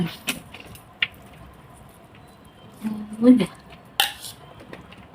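Dishes and cutlery clinking while laab with khao pun rice noodles, moo yor and minced pork is plated: a few sharp scattered clinks and scrapes, close and fairly quiet, with a brief murmur of voice.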